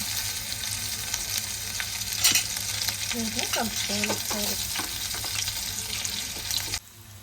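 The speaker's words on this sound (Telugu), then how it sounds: "కొద్దిగా జీలకర్ర వేసుకోవాలి అవి కొద్దిగా వేగినాక ఇందులో ఎండుమిర్చి అలాగే కొన్ని వెల్లుల్లి రెబ్బలు కొంచెం కచ్చపచ్చగా దంచుకొని వేసుకోవాలి" Cumin, dried red chillies and coarsely crushed garlic frying in oil as tempering for pappucharu. A steady, fairly loud sizzle with small crackles continues, then stops abruptly just before the end.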